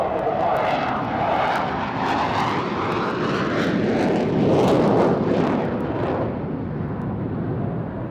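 A military jet with an unusual two-seat layout, navigator in front of the pilot, roars loudly and continuously past at RAF Waddington Airshow, its engine noise swelling to a peak midway and easing slightly toward the end.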